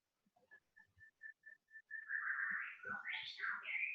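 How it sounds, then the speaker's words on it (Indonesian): A bird calls inside a school classroom, a series of short evenly spaced whistled notes that run into a longer warbling, rising and falling trill, fairly close and clear in a quiet room. "Ada suara burung tadi."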